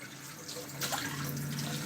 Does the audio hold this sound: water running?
yes